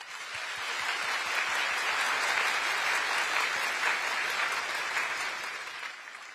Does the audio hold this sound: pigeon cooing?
no